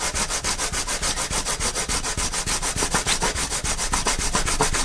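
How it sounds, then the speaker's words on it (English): Sandpaper on a flat surface rubbed back and forth against a 3D printed tire, a loud close rasping scrape repeating in quick, even strokes of about six per second throughout. "take a piece of sandpaper on a flat surface and rub it over"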